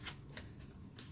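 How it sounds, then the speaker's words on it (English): Tarot cards being shuffled by hand, a soft papery riffle with a few brighter bursts of shuffling over about a second, faint and close, with no talk. "I keep shuffling."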